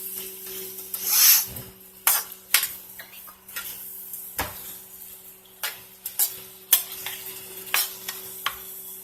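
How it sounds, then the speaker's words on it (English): A spoon stirs food in a pan, giving a string of scraping, clattering strokes over a steady low hum, with one louder clatter near the start and softer scrapes afterwards. "So I'm coming back over here and I'm just stirring this."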